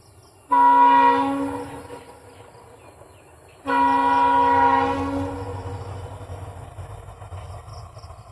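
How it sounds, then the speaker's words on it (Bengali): In an Assam village, a train sounds its horn in two long, loud blasts, the second followed by the deep rumble of the passing cars that slowly fades. "ট্রেন আইসে তাই ট্রেন দেখার দৌড়া রে"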